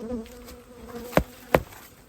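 Honeybees in an opened grey hive on a cold day, buzzing softly in a low steady drone close by, with two brief knocks near the end.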